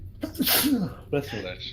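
A single sharp sneeze bursts out close and loud, followed by a person talking briefly.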